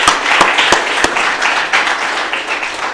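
An audience at a school's eighth grade speeches applauds two young brothers, a short, fairly loud burst of many hands clapping with a few sharp individual claps standing out near the start.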